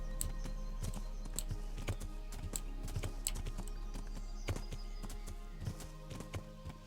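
Horse hooves in the video game Kingdom Come: Deliverance, a run of close, crisp clip-clops in an uneven walking rhythm over a low steady hum.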